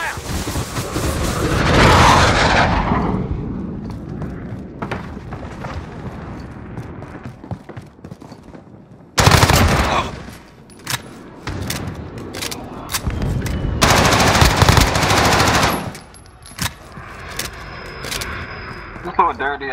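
Heavy gunfire and booming explosions from a Call of Duty Modern Warfare match come in loud bursts, with a big blast at the start and dense volleys in the middle, amid game radio chatter.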